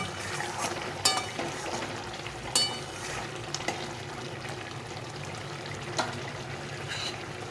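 Spices, with toasted cumin powder added, are stirred in a frying pan over a continuous sizzle, with occasional sharp scrapes and knocks of the spoon against the pan and no talking.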